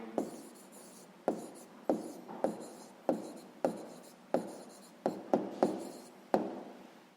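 The answer to a sixth-grade maths problem is written out by hand: about ten crisp, separate scratchy strokes and taps, close and quiet, with no voices.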